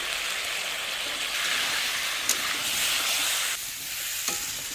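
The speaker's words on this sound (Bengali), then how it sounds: "পেস্ট করে রাখা মশলাটাও দিয়ে দেবো করে কষিয়ে নিতে হবে" Spice paste with chili and cumin powder fries in a pan alongside sunflower potatoes, a bright continuous sizzle with light stirring scrapes and a couple of sharp utensil clicks near the end.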